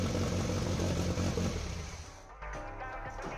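A turbocharged 1997 Mazda Miata engine starts for the first time and runs with a rough, clattering note that drops off after about two seconds, then settles into a quieter idle.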